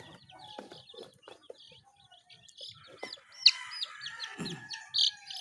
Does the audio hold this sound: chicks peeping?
yes